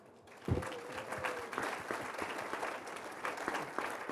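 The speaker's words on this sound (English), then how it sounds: "Thank you so much, Ibrahim. A big round of applause." A summit audience at an art awards event claps for a speaker. The applause starts with a bump, then is soft and fairly distant, holding evenly for a few seconds.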